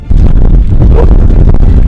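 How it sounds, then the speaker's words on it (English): Strong wind roars down a valley and buffets steadily against the microphone, a constant low rumbling gust with no letup throughout. "The relentless wind whistled down the valley"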